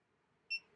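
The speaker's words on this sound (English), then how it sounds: "We heard the little beep." A single short, high electronic beep from an Xhorse Dolphin XP-005 key machine as it connects over Bluetooth, faint and quick against a quiet room background.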